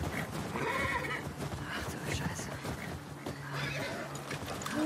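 A horse whinnies and snorts in The Last of Us Part II, with hooves clip-clopping nearby and a few short neighs spread across the moment, while a character speaks softly over it.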